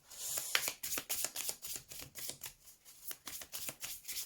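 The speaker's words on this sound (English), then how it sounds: "I want to give these a good shuffle." Tarot cards being shuffled by hand up close, a quick run of crisp riffling flicks and papery slaps in an uneven rhythm, with quiet gaps between bursts.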